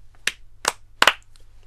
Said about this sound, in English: I want you to sing the song again and you clap your hands